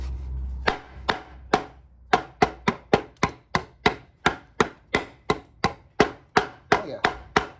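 A Valhalla Tyrannosaurus rex folding knife chops into wood, striking about eighteen sharp, close thwacks in a quick, fairly steady rhythm.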